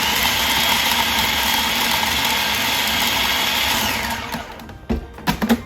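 A food processor blending paste for a beef Wellington, a loud steady motor whir for about four seconds that then stops, followed by a few knocks and clatters.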